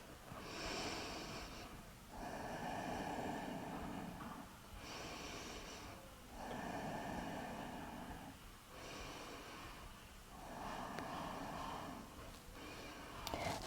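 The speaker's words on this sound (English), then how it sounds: "Finding your breath." Slow, steady breaths during a morning yoga practice, each long airy inhale and exhale separated by short pauses in an even rhythm, close and fairly soft, with no talking.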